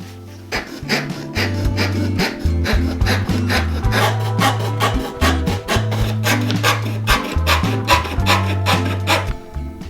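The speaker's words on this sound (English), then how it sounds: "My balsa wood is like 1 centimeter thick, so I'm going to use my fret saw to cut them out." A fret saw cuts through roughly 1 cm thick balsa wood with a steady, loud, rhythmic rasp of quick back-and-forth strokes, close up and continuous, with no talking.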